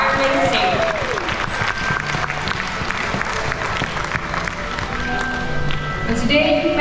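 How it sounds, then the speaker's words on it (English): Audience applause at a raptor and scavenger bird show at Bird Paradise in Singapore, steady dense clapping across the whole stretch with faint whistles and crowd noise mixed in. "let's take a moment and give a big round of applause to these amazing birds"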